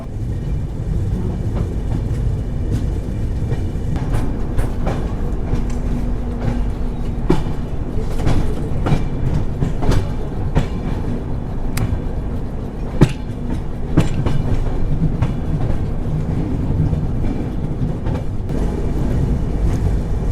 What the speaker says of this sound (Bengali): আমাদের ট্রেন মুঘলসরাই স্টেশনে এসে পৌঁছালো। আজকে আমরা যে ট্রেনে যাত্রা করছি সেটা হচ্ছে হাওড়া অমৃতসর মেল।